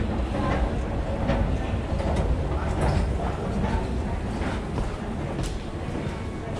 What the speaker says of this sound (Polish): właśnie zjeżdżam na stację metra